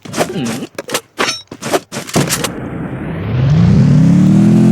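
A vehicle in Garena Free Fire starts up after a few quick gunshot cracks and then drives with a loud, steady, rising engine drone that carries on to the end.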